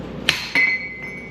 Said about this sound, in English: Probably get a hammer and really beat on those.